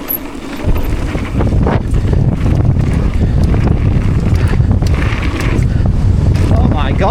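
Strong wind buffets a dirt bike rider on a windy day at a dirt track, a loud, steady roar of wind noise against the microphone that runs throughout, with a voice heard briefly.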